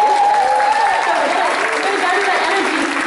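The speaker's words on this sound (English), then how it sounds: "Give him a round of applause" A dense, continuous wash of clapping from an audience cheering a dancer on stage, steady and loud throughout, with a voice carrying over the top.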